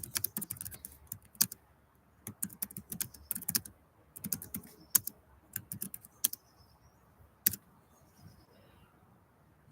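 Irregular bursts of computer keyboard typing during an online video chat, quick clusters of light key clicks separated by short pauses, close and fairly quiet with no talk over them.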